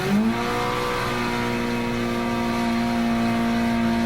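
Gran Turismo 7 Spoon-style Honda Civic launched in second gear with wheelspin: a steady, high-revving engine drone holds one sustained pitch, close and loud throughout, with no speech.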